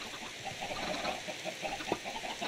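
Chickens clucking in the Minecraft video game, a soft run of short repeated clucks over a steady hum of background game ambience, fairly faint and without any talk over them.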